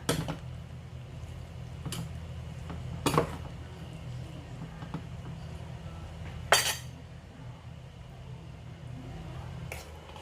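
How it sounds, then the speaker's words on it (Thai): Ceramic bowls and a ladle clink intermittently while beef red curry is served, with several sharp, separate chinks spaced a few seconds apart over a quiet kitchen hum. "เดี๋ยวมาตักใส่ถ้วยกันนะคะ"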